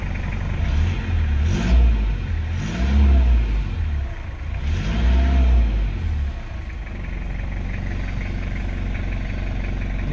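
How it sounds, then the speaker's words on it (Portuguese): Engine of a 2009 Toyota Hilux pickup running with no one speaking: three rising-and-falling revs in the first six seconds, then a steady, even idle. "Não sei se vai dar pra ouvir o barulho do motor."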